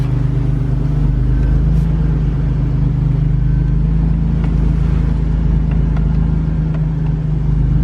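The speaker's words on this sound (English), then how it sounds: "we are out for its first test drive" A car out on its first test drive after lower control arm and power steering rack bushing replacement, with a steady loud engine and road rumble from inside the cabin and no speech.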